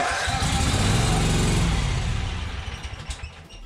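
A Yazoo Kees ZT Max 42-inch commercial zero turn mower engine running on choke, a loud, close, rough throbbing roar that holds steady and then eases off and sputters slightly toward the end.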